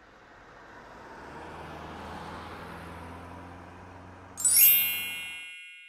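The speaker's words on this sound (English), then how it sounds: "The correct answer is passing car." A car passes by, its engine and tire noise swelling gradually, then easing off, with a bright ringing chime breaking in near the end before quickly fading out.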